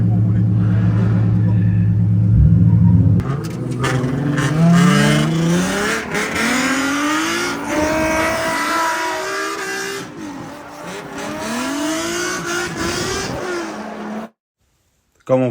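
A race car at a street competition accelerates hard out of a corner, its engine revving loudly with rising and falling pitch sweeps and a rumbling roar, while someone talks over it.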